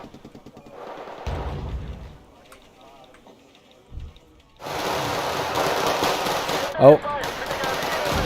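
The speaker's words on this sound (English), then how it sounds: "That's the mortars coming in to kill my troops." Mortar rounds strike infantry in the strategy game Wargame Red Dragon: scattered bursts of gunfire give way to a loud, sustained roar of explosions with one heavy blast near the end, and a brief voice exclamation comes over it.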